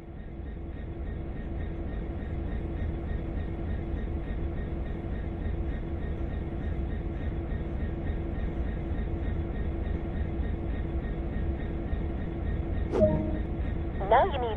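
A train in Train Sim World sits idling before moving off, a steady low mechanical rumble and hum that holds throughout, with a couple of brief clicks near the end.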